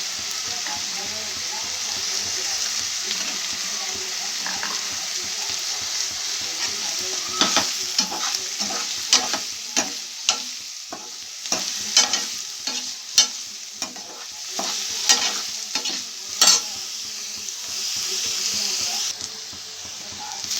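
Ingredients for egg tempering sizzle steadily in a pan while a spoon stirs and scrapes with irregular clacks, the frying hiss loud and close throughout.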